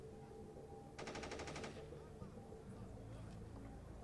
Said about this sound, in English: You hear some gunfire.